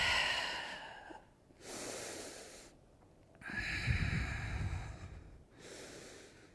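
Slow, audible breaths during a yoga session in half moon pose: long airy exhales and inhales alternate with short silent gaps, close to the microphone and fairly soft.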